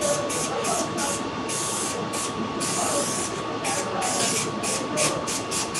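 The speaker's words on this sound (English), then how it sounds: "spraying the foam surface using contact adhesive" Repeated bursts of hissing contact adhesive spray onto foam for a Triumph Spitfire seat, each a second or less, pulse in an irregular rhythm close by, with brief pauses between passes.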